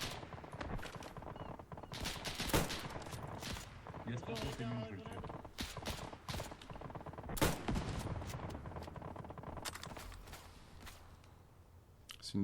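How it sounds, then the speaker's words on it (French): Rapid bursts of anti-aircraft gunfire in a video game battle set in the Tonkin war in 1951, with loud repeated volleys and scattered shots mixed with other battle noise. Voices are heard alongside the firing. "C'est une DCA qu'on vient d'entendre"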